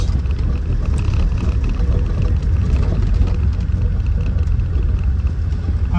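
A Land Rover Defender 90 TDCi CSW pulls away, its diesel engine a steady, loud low rumble throughout with road noise and no voices.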